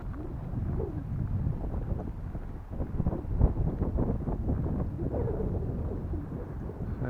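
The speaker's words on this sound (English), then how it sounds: "A bit of wind." Wind gusts buffet the microphone outdoors in a continuous low rumble, steady and fairly loud throughout, with no talking while a cheap foam glider is about to be thrown.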